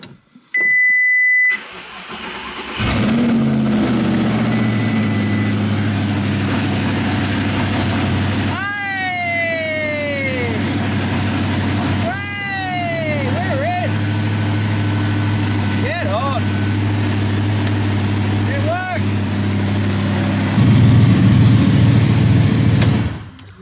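A rebuilt Audi R8 engine cranks and fires, then settles into a loud, steady idle close by, with a revving swell near the end; voices talk over the running engine.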